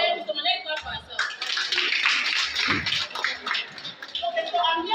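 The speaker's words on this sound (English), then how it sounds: "Let's clap for ourselves." Scattered clapping from a group at a training event, rising briefly over a steady murmur of voices in a room.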